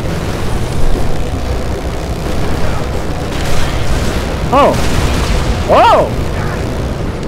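Dynamite going off in Dead Rising 3, deep rumbling blasts that roll on steadily while a voice shouts brief startled exclamations over them.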